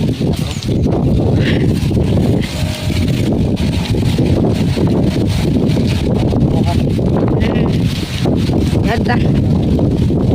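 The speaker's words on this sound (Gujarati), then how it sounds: "આ પવનનો અવાજ આવતો છે" Strong wind blowing across an open maize field, a loud, constant roar with gusty buffeting against the microphone, while a voice speaks over it.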